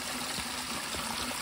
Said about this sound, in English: perfect creek